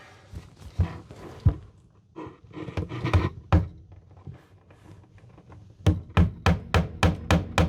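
Sharp hammer blows ring out during electrical wiring work in a box van conversion, scattered at first, then a quick steady series of about seven evenly spaced strikes close by.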